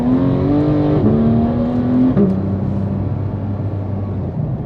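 A GT3 sports car accelerates hard at half throttle near an industrial area in Las Vegas, its engine note climbing sharply through two quick upshifts before settling into a lower rumbling cruise, loud and close.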